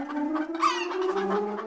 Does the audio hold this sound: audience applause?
no